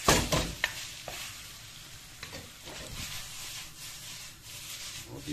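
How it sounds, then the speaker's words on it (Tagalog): Pasta tossed with dinuguan, a Filipino pork blood stew, sizzling in a hot pan, with a utensil scraping and stirring through it in close, uneven strokes over a constant fry hiss. "Pag minimix mo ng ganyan, parang gisa ba?"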